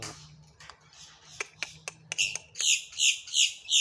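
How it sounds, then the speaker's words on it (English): Close, loud bird calls: a run of sharp clicks and ticks giving way to a rhythmic series of bright, repeated chirps, several in quick succession near the end. "Such a pretty bird singing."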